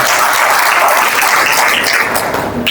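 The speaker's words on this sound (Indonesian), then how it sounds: "Beri tepuk tangan buat Tuhan." Church congregation applauding God during a sermon, a dense, steady wash of many hands clapping that fills the space loudly, with no voices over it, easing off slightly at the very end.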